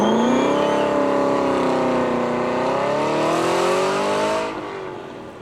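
A Lancer car drives past during a demonstration run at a supercar weekend, its engine note loud and close as it passes, then fading away toward the end.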